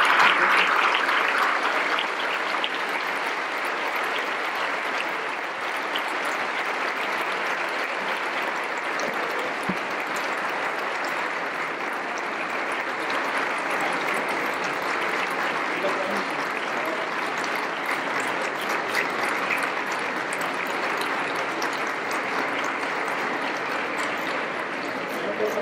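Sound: applause for a poet at a book fair press conference

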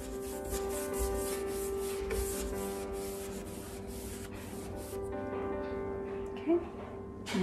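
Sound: buffing painted furniture

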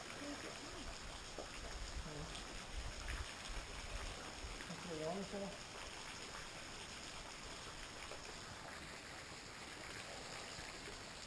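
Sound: waterfall flowing at Red River Gorge

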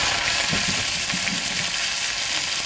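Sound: vegetables frying in hot oil in a wok

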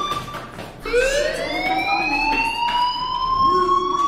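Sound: fire alarm ringing in video game Life is Strange

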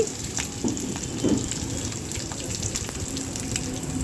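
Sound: tempering sizzling for coconut chutney

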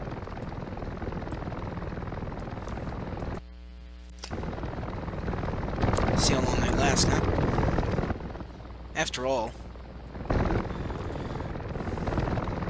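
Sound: helicopters deploying in the video game Men of War: Assault Squad 2

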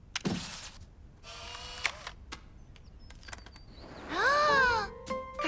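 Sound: camera taking a photo

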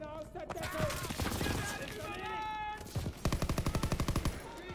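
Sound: machine gun fire in Call of Duty WWII video game

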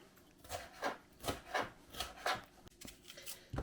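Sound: knife cutting bell pepper into strips on a board

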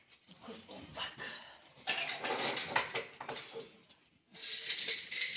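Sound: dishes and pans clattering while being washed

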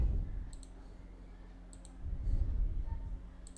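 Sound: computer mouse double clicking

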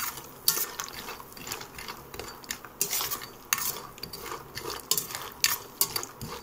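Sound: frying urad dal vadiyalu on low flame

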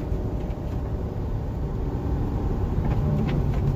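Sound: Chevy 3500 truck engine downshifting

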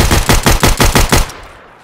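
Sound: gunfire in the video game Escape From Tarkov

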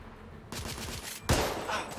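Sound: gunshots in The Order 1886 video game

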